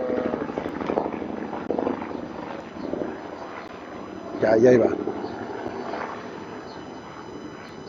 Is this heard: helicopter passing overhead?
yes